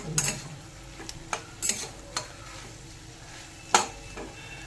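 Bitter gourd frying with fish roe in a pan gives a soft, faint sizzle broken by a few scattered spatula scrapes and clinks, close by and without talk.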